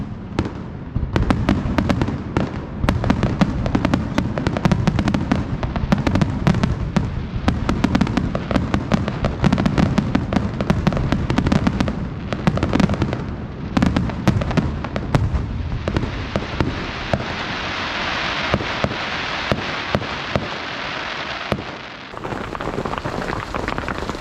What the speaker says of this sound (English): because there's going to be fireworks.